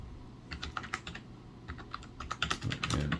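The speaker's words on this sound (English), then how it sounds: "let's put the caps lock on and test this keyboard" Keys clatter on a GOFREETECH wired keyboard from a keyboard-and-mouse combo, a close run of quick irregular taps that thickens toward the end, with no talk.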